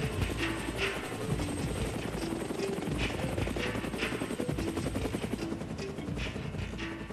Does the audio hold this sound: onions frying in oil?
no